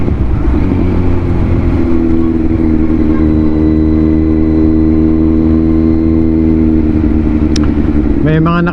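Queued motorcycles idle with engines running near a Z900 rider during a New Year rush, making a steady low rumble close by, with a rider talking over it and a brief rev near the end.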